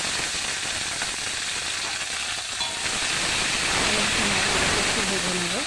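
Onion and green chili fry with salt in a pan, a steady close sizzle and hiss throughout, while a voice speaks over it in the latter half.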